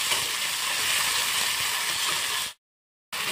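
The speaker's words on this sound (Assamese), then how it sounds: "এইখিনি অলপ তেলত ভাজি লৈ আছোঁ" Ginger, garlic and onion frying in hot oil give off a steady, dense sizzle that holds level for about two and a half seconds, then cuts out abruptly before resuming.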